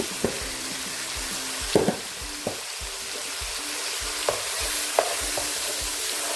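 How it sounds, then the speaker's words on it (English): Egusi soup with beef being stirred in a pot, a steady low sizzle punctuated by repeated spoon knocks and scrapes against the pot, no voices. "Stir everything."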